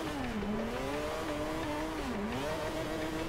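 A Mazda RX7 drift car in Forza Horizon 2, its rotary engine droning continuously with pitch rising and dipping as the throttle shifts, tires hissing beneath, steady and loud with no talk.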